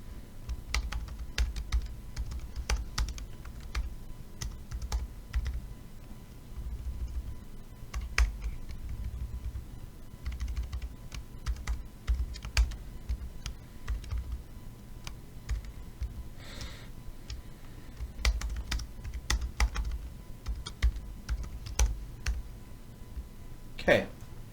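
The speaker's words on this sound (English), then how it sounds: "I apparently still can't type and talk at the same time." Rapid, steady clicking of computer keyboard typing runs through the whole stretch, with intermittent speech over it during a programming tutorial on linked lists.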